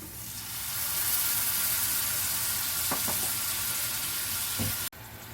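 A quarter cup of cold water poured into hot prawn masala in a pan, raising a steady close hiss and sizzle that holds for several seconds, with a couple of brief clinks near the end before it cuts off.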